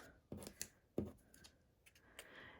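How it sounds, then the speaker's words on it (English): Paper snips cut into card with a few short, crisp snips, close and quiet, with small rustles between them and no talking. "using my paper snips, I am just going to make one cut up here"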